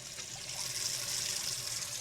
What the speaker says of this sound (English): So we'll just run under the water just like that, do its self-cleaning thing.